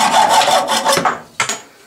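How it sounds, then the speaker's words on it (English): A hand saw cuts through a hard lead casting sprue in several quick rasping strokes, close and fairly loud, slowing to a few separate strokes before trailing off. "Well, it's hard lead, but it's still easy to saw."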